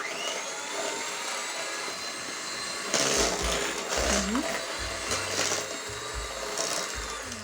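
An electric mixer whirs steadily through marble cake batter, a faint continuous motor hum with brief louder bursts of beater noise against the bowl.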